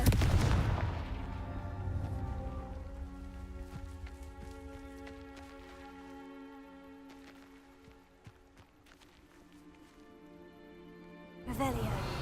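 Confringo blasting spells burst in Hogwarts Legacy, with a booming explosion at the start and another at the end, and tonal game music ringing between them.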